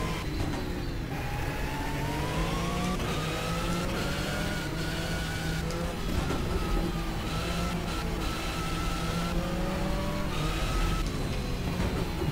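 Race cars, including an Audi, run at Lausitzring in the racing game GTR2, sounding as a continuous high engine whine with rising pitch sweeps from repeated gear changes and revving.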